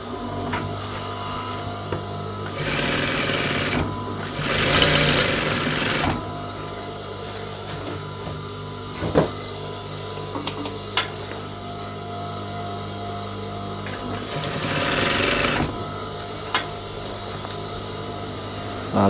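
Sewing machine stitching the front and back body pieces of baggy trousers, in short bursts of whirring separated by quieter pauses and handling noises, moderately loud and close.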